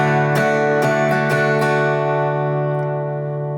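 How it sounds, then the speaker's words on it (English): An acoustic guitar is strummed in a rhythmic pattern for a song, with several crisp strokes at the start and then a chord left ringing and slowly fading. "The strumming pattern that we're going to use for the first section sounds like this."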